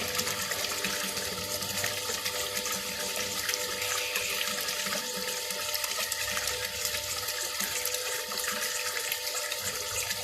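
Water runs steadily through a homemade sapphire pulsator holding gravel and a few sapphires, a constant close rushing and splashing with no pauses.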